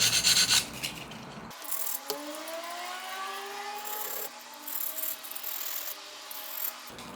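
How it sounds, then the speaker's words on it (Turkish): Steady scraping and rasping of sandpaper rubbing against a sharp broken glass edge, with a faint squealing tone rising through the strokes, close and moderately quiet. "Tabi camın e, keskin yeri zımparayı kesiyor."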